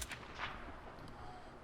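Two sharp sniper rifle shots ring out in Hitman 2 during a riot scene, fairly faint and quickly decaying, followed by a low rumbling background with no talk.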